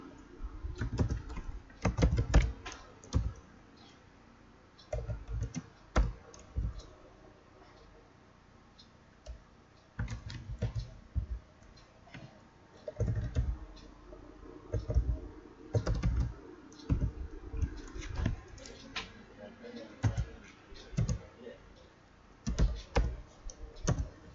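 Typing on a computer keyboard to enter data, with irregular bursts of close, fairly quiet key clicks separated by short pauses, continuing steadily throughout.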